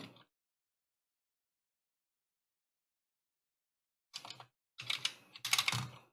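Keys on a restored Commodore C64 keyboard are pressed in clusters of quick, close clicks and clacks, a short burst at the start, then silence, then several rapid bursts near the end.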